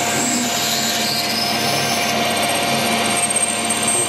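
A Banggood electric drill runs in one continuous, loud, high whine close by for the whole stretch, steady with a slight wobble near the end and no speech.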